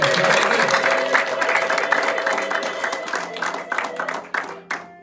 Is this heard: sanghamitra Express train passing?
no